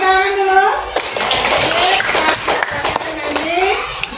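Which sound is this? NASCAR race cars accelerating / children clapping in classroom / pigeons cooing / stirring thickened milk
children clapping in classroom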